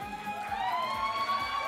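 A game show studio audience cheers and shouts with lively energy, voices layered over a steady roar, with whistle-like high tones rising above the noise.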